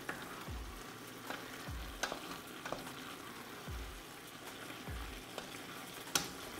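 Vegetables simmering in a pot, ahead of the tomatoes going in, make a faint, continuous sizzling bubble broken by a few soft utensil scrapes and taps, with no voices.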